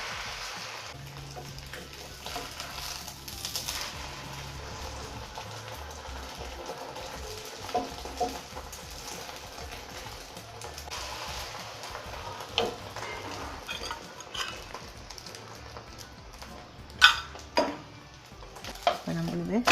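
Oil sizzles steadily in a hot pan as a palak paneer kati roll fries, with a few light clicks and stirring taps over about twenty quiet seconds and no talking.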